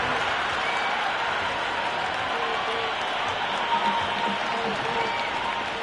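Dense, steady roar of a stadium crowd cheering in the cricket video game Cricket 26, a broad wash of massed voices with scattered applause, sustained at an even level throughout.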